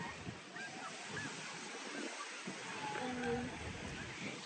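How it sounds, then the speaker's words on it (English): Ocean surf rolls in around a pier during a junior lifeguard outing, a continuous soft wash of breaking waves heard from a distance, with voices faintly mixed in. "That's a dangerous part of the waves because it can like hurt you if you're little."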